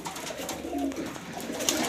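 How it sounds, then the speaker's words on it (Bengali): Breeding Afsan grizzle pigeons in a loft give soft, low cooing calls that carry steadily through the two seconds, close and moderately loud against faint background noise. "কবুতরগুলো ব্রিডিংয়ে ছিল, আমি এখানে নামাইছি"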